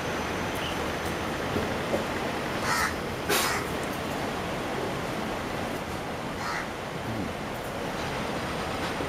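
A crow caws a few times outdoors in Singapore, the brief calls cutting through a constant loud hiss of background noise.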